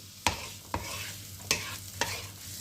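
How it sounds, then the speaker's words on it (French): Onions frying in a pan for sausage rice with vegetables, a steady sizzle punctuated by four sharp scrapes of a utensil stirring them, close and alone. "je fais revenir mes oignons quelques minutes jusqu'à ce qu'ils soient blondis"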